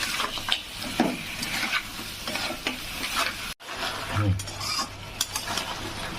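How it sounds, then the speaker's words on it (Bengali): Sea crab stir-frying in a pan with a steady close sizzle and repeated scraping, clattering stirs of a utensil against the metal; there is a short dropout midway. "কাঁকড়াটা দিয়েও আমার অনেকক্ষণ কষাতে হবে।"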